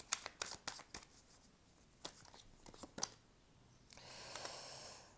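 Oracle cards shuffled and drawn at close range, quiet crisp riffles and flicks in irregular bursts, ending with a longer soft sliding rustle.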